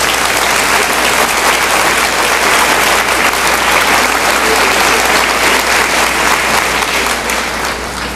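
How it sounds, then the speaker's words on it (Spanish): Strong, sustained applause from a church congregation, loud and dense throughout with only a slight fade at the very end. "Denle un fuerte aplauso al Espíritu"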